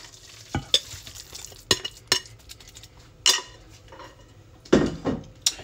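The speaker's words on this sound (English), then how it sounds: "I'm now going to transfer all of this to my baking dish." Meatloaf mixture being scooped and pressed into a baking dish: a few irregular close clunks, scrapes and light utensil clinks separated by quiet gaps, with no talking.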